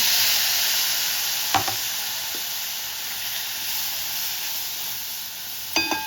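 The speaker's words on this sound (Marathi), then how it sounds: "हे आपल्याला पाच मिनटं असं वाफवून घ्यायचं आहे" Steady sizzling hiss of peas steaming in a pan over low flame, with a couple of brief clinks of a utensil against the pan.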